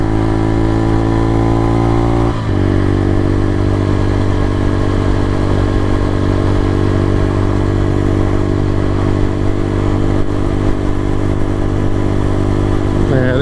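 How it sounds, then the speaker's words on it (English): A motorbike engine warms up with a steady, loud, close idle that rumbles and clatters throughout, with a brief dip and a rev near the end, and no speech over it. "warm your bike up a bit longer."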